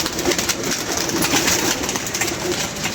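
Pet pigeons coo steadily and close by, soft throaty calls overlapping through the whole stretch against a busy background murmur.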